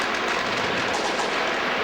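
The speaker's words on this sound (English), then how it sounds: "A demonstration that was broken up by gunfire." Gunfire breaks up a street demonstration in central Baghdad, heard as a rough, continuous burst of distant rattling shots blurred into crowd and street noise.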